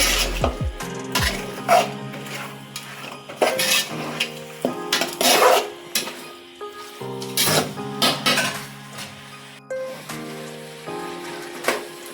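A spoon scrapes and clinks against a pan as masala chicken is stirred in oil, with irregular metallic knocks, soft sizzling and shuffling of the pieces, close up and without any talking.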